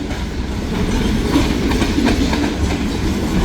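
Deadheading freight locomotives roll past close and loud, a steady rumbling roar with rhythmic clickety-clack of wheels over rail joints throughout.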